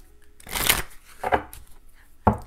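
Cards of a Heart and Soul Love Oracle deck riffle and flutter in a few quick shuffling bursts, close and fairly soft, with short pauses between them.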